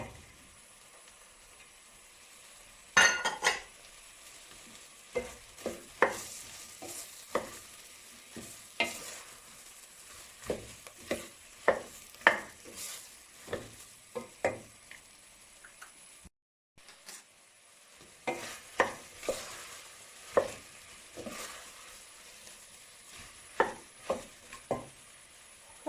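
Vegetables, including celery, sizzle and crackle in a hot pot while sautéing for carrot soup, with irregular sharp pops and stirring scrapes throughout, fairly close, with one brief dropout midway.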